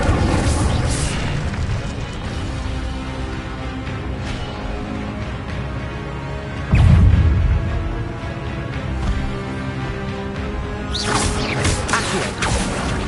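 A burst of fire from the Incendio spell in Hogwarts Legacy lands as a loud booming whoosh midway, set within a dense, constant game soundscape of music and effects, with further swishes near the end.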